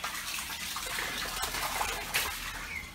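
Steady trickling and gushing of water as a newly built koi pond undergoes its big fill through a water meter, a continuous faint wash with no talk.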